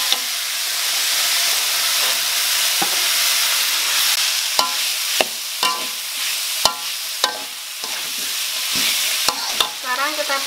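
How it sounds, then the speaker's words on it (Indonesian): Chicken and vegetables being stir-fried in a pan for a savoury filling: steady close sizzling hiss with repeated sharp scrapes and clacks of a spatula against the pan, no talking. "kita masukkan sayurannya."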